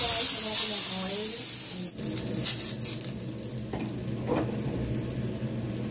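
Dal hitting very hot oil in a pan gives a loud, steady sizzle and frying hiss that runs throughout, with brief stirring clatter and light tap-water sounds mixed in.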